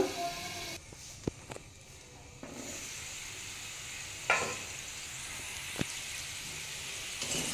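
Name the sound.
potatoes frying in covered pan on low gas flame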